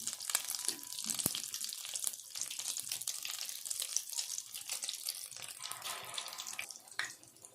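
Chicken shami kabab patties frying in hot ghee, a steady, dense crackling sizzle throughout with occasional sharper pops, fairly close.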